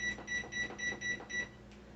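A kitchen timer beeps in a quick series of about six short, evenly spaced electronic tones while sauce cooks on the stove, then it stops and leaves quiet room noise.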